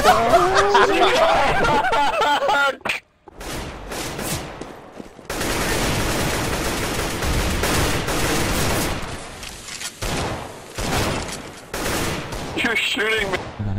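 Loud, rapid gunfire from the video game CS:GO comes in repeated automatic bursts with short pauses, close and harsh, while players shout and laugh over it.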